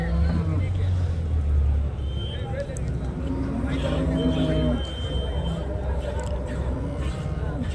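Punganur cattle lowing and mooing nearby at a cattle market amid a busy, noisy outdoor crowd, with people talking and engine rumble in the background.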